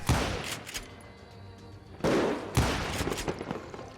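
Gunfire in the video game Call of Juarez Gunslinger: a few loud, booming shots with long echoing tails, spaced roughly half a second to a second apart, with no voices.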